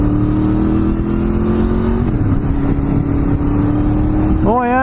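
Honda engine with VTEC giving a quick rev blip while driving, a steady droning cabin engine note that dips and then rises sharply at the end, with talk nearby in the car.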